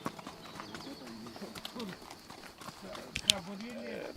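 Karachay horses walking on stony ground in the Caucasus mountains, soft irregular hoof clops under continuous narration, fairly faint and partly masked by the voice.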